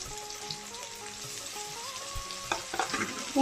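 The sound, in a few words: frying ginger, garlic and green chilli paste with tomato and onion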